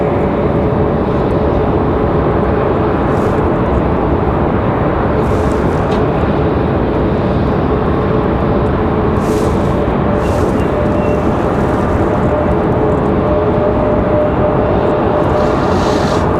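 An Airbus A320-200 at Raleigh Durham airport produces a loud, steady roar of jet engine noise that fills the whole stretch without letup, heard from nearby.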